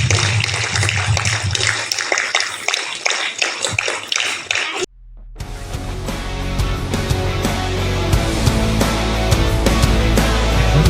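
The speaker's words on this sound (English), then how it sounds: "Clap." Students at a morning school assembly clap hands in one sharp, loud burst, after which a steady wash of crowd and room noise follows.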